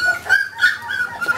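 An older male dog whines and whimpers in high, wavering tones over about a second and a half, close by, with no speech.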